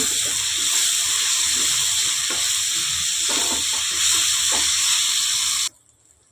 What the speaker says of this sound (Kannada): ಟೊಮೊಟೊ ಹಾಕ್ಕೊಂಬಿಡ್ತೀನಿ ಚೆನ್ನಾಗಿ ಫ್ರೈ ಮಾಡ್ಕೊಂಬಿಡೋಣ